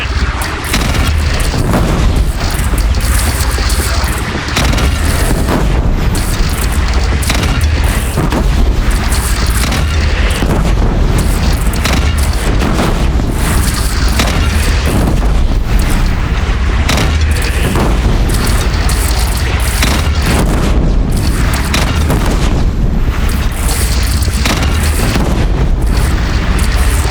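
Cannons fire in the video game Horizon Zero Dawn amid a battle, with loud, repeated booming explosions and heavy rumbling over a constant dense roar of combat noise.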